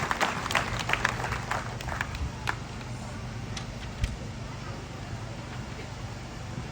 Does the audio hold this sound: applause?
yes